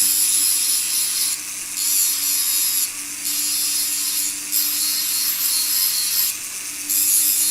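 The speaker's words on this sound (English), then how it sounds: "I'm doing it with a sanding disc just to make quick work of it" A sanding disc on a power tool grinds a metal box clasp in steady, high, whining passes, with brief pauses between strokes. It sounds close and moderately loud, and nobody speaks.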